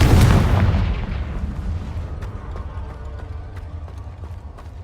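The Confringo blasting spell in Hogwarts Legacy, cast inside a cave, lets off a loud booming burst that rumbles and fades over several seconds with faint clicking debris behind it.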